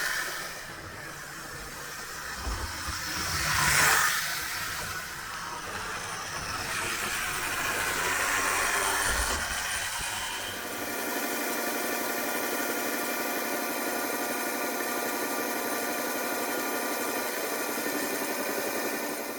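A Hornby 0-6-0 model tank engine with a smoke generator runs back and forth on its track, giving a steady mechanical whir and hum. A louder swell comes early on, then a thinner, higher and more even running tone.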